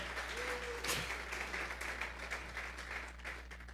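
A church congregation gives an offering of applause to God, steady overlapping clapping heard at a distance, fairly faint, with a brief vocal sound near the start.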